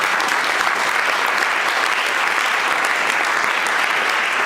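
A French-speaking church congregation applauds during a sermon, a dense, steady wall of clapping that holds loud and even from start to finish.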